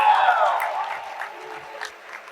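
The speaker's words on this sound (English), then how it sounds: "Let's have one more round of applause for the first winners of the evening" Audience applause at a university sports awards ceremony: a short burst of clapping that fades quickly, fairly quiet and distant.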